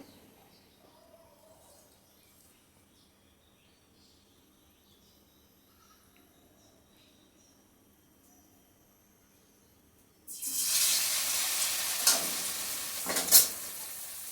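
Batter-coated stuffed pointed gourds (potol), several at once, drop into hot oil over a medium gas flame. A near-silent stretch gives way to a loud, steady, crackling sizzle.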